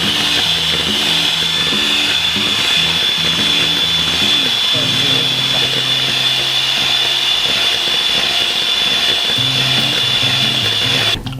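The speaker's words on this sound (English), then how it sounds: "And then we're going to whisk that." An electric mixer whisks an egg, sugar and lemon zest mixture for madeleines toward a light foam, a loud steady high-pitched motor whine running throughout with voices talking underneath.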